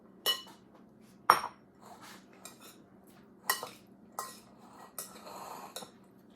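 Waldorf salad tossed with spoons in a bowl: scattered clinks and scrapes of metal on dish with soft, moist mixing between, close and quiet in an otherwise still room.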